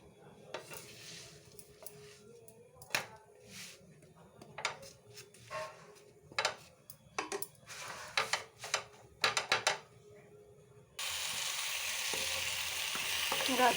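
A pumpkin and potato curry cooks in a pan, with irregular clinks and scrapes of a spoon stirring against metal, then a steady loud sizzle takes over near the end.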